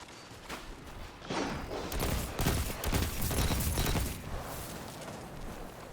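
Sustained gunfire during Iron Banner PvP in Destiny 2 with a Stasis Hunter build, a dense rapid rattle of shots building up and then tapering off, loud and close, with no talking.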